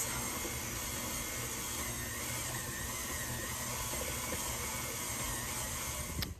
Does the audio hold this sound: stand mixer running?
yes